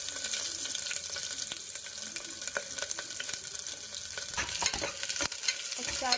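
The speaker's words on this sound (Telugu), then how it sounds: "ఇప్పుడు ఆనియన్ వేసుకోవాలి." Onions go into a cooker with bay leaf and green chillies for veg pulao and fry with a steady, close sizzle, while a spoon stirs and scrapes continuously and gives sharper knocks near the end.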